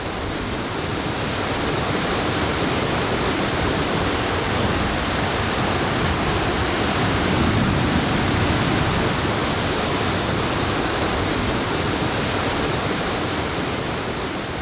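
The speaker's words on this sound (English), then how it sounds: "The Molokai Falls is the highest waterfall in Meghalaya and the tallest plunge waterfall in India." Nohkalikai Falls, India's tallest plunge waterfall in Meghalaya, a continuous broad roar of falling water, steady and full with no pauses or voices.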